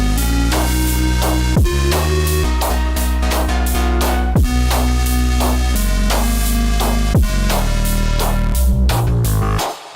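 A drum and bass drop built entirely from u-he Repro, Hive 2 and Diva synths in FL Studio: loud, dense bass layers under a driving beat with punchy drum hits and bright synth stabs, occasional downward pitch sweeps, playing continuously throughout.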